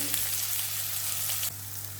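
Steady sizzling of chopped onions frying in hot oil for a green pea masala, a constant bright crackle with a faint stir or clatter partway through.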